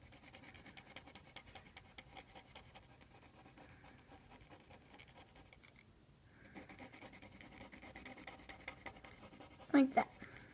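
A pencil shades on paper during a drawing, steady close scratchy rubbing strokes with a brief pause midway, then firmer strokes and a louder tap near the end.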